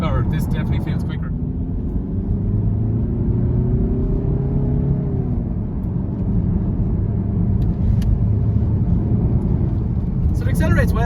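A 2017 VW Tiguan 2.0 TDI diesel accelerating on a back road, heard from inside as a steady, loud low engine rumble with rising tone throughout, with a person speaking over it near the start and end.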